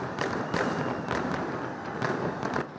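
A New Year fireworks display over a beach in Rio de Janeiro: distant bursts and crackling pops overlap in a steady, dense barrage with no gaps and no voices.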